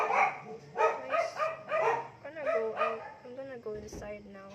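A nearby dog barks and yips in a run of sharp, repeated calls, followed by a short whimper near the end. It is heard outdoors.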